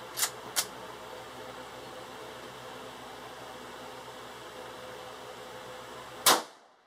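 Gunshots from a 16-inch Rossi 92 lever-action rifle firing 357 Magnum rounds: two quick sharp cracks at the start, then a long quiet stretch of steady background hiss before a third loud, close shot near the end.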